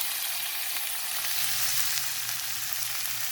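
Chicken pieces fry in a pot for a masala chicken handi, giving a steady, dense sizzle close up without any pause or voices.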